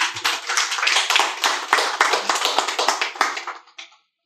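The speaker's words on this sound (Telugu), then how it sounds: "క్లాప్స్." A seated audience at a motivational talk breaks into dense, continuous applause for about four seconds, close and lively, then tapers off to silence.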